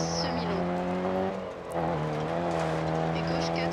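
A rally car in Dirt Rally on a Wales stage, its engine revving hard and accelerating with a loud, steady drone and a brief dip in pitch before climbing again. Someone speaks excitedly over it.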